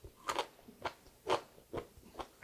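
Crunchy steamed broccoli stalk dipped in sauce is bitten and chewed up close, giving about six sharp, crisp crunches at uneven intervals with quiet pauses between them.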